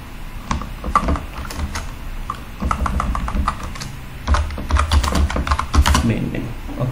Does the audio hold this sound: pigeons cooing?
no